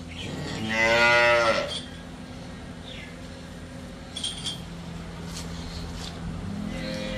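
A cow at a dairy farm lets out one loud, close moo lasting about a second, followed by quieter farmyard background sounds.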